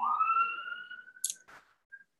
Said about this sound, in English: can you guys hear the sirens?